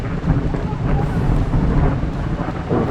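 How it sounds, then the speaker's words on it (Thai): A deep, continuous rumble of thunder during a storm in the forest at Wiang Haeng, Thailand, rolls on for several seconds, loud and close, with wind-like noise and no pauses. "เสียงฟ้าร้องน่ากลัวมากเลยเนี่ย"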